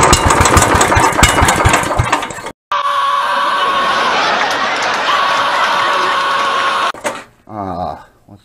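A generator engine pulled from a dumpster runs with a loud, close, rough mechanical roar, cutting out briefly, then droning steadily before dropping away. A faint voice is heard near the end.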